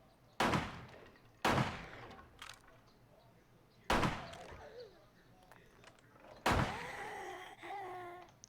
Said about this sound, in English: Anyone else heard those gunshots